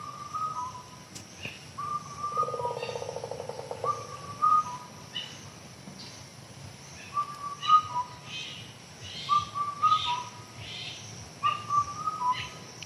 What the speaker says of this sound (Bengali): দেখছেন কত ধরনের পাখি ডাকছে এখানে